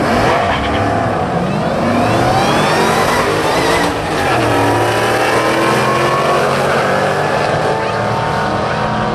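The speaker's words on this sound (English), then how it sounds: "that's Jason's Camaro in Kent" A Chevrolet Camaro with an LS1 V8 roars past during a drag race against a Shelby GT500, its engine loud and close, pitch sweeping up and down as it revs and passes, with a voice faintly underneath.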